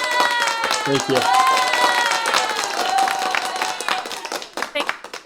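An audience applauds loudly and steadily at a live event, dense clapping filling the room, while a voice speaks briefly over it before the applause thins out at the end.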